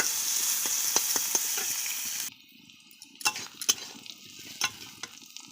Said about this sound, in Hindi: पियाज पकेबा। पियाज को आम हल्का लाल है पर्यंत भाजवा।